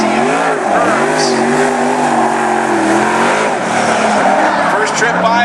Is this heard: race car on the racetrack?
yes